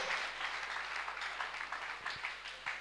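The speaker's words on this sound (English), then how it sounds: "Clap for Dr. Jesus." Church congregation clapping together, a dense, steady patter of applause from a crowd indoors, moderately loud with no talk over it.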